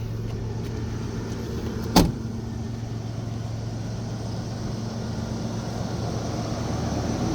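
A third-generation Toyota 4Runner with about 310,000 miles idles as a steady, low engine hum, heard from close by at a quiet level, with a single sharp click near the two-second mark.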